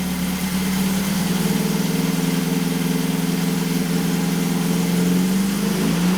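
A Saab Sonett engine, recovering from engine failure, revs up close and loud from a steady idle, its pitch rising smoothly and holding high near the end, with no one speaking.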